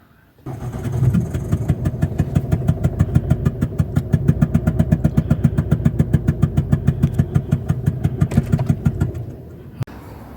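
A 2010 Ford Kuga engine with a blown injector idles steadily and close by after starting, with a pronounced rhythmic ticking puff repeating through the run. It stops abruptly near the end, and no one speaks.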